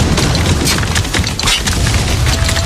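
Loud, continuous booming from mortar shells and heavy explosions fills a battle scene in Spec Ops: The Line, a dense rumbling roar with crackling bursts layered on top and no pause.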